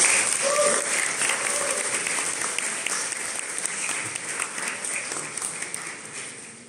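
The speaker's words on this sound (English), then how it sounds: "please join me in giving them a warm round of applause for their hard work." Dense, steady applause fills a Samsung Galaxy S24 launch event in Singapore, a large audience clapping continuously and loudly, fading slightly toward the end.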